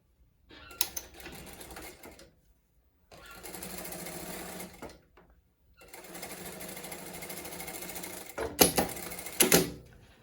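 A sewing machine stitches along the tip of a zipper in several steady bursts, its rapid mechanical whir starting and stopping with short pauses, ending in a few louder clacks.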